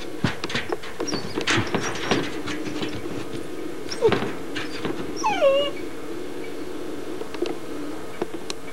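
Seryy, a dog sitting in his dark kennel, gives a few thin, high whimpers amid faint clicks and rustling outdoors, quiet and somewhat distant, with no talking.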